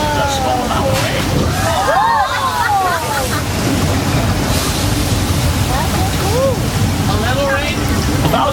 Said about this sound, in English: Thousands of gallons of water are just dumped from big tanks at the top of the hill.